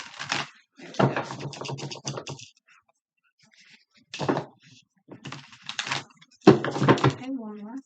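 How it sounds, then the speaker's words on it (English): Bursts of crisp riffling and light slapping as tarot cards are shuffled, in several short rounds separated by pauses, close to the microphone. "sometimes people like to see people shuffling the cards"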